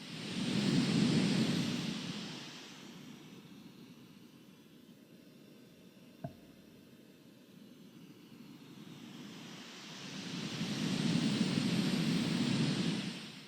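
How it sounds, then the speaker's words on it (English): Broadband white noise played toward a Fifine K688 microphone, swelling loud, fading to a quiet dip with a sharp click midway, then rising again as the source moves around the mic. "I'm just going to do a quick white noise test"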